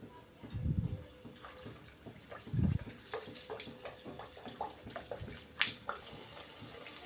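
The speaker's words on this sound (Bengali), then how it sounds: "সুন্দর করে লুচিগুলো ভেজে নেবে।" Luchi fry in hot oil in a kadai, giving a soft sputter and scattered crackles, with two dull low thumps near the start as dough meets the oil.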